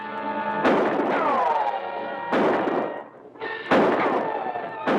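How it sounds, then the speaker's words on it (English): Gunfire rings out in a police squad gunfight in a 1944 film: three sharp, loud shots a second or so apart, each followed by a ringing decay, laid over a steady music or hum bed. "It's the police squad gunfight."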